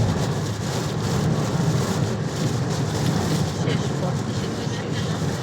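Strong storm wind from Cyclone Remal near the Padma Bridge and a rail bridge, a loud, steady roaring rush that fills the whole stretch with no letup.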